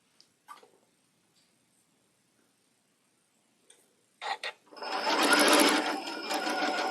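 A sewing machine stitches a table runner: a few soft clicks and handling noises first, then the motor starts into a steady, fast whirring run for the last couple of seconds, close and clear with no talking.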